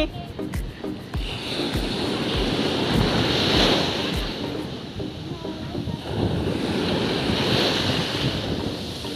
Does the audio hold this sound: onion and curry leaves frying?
no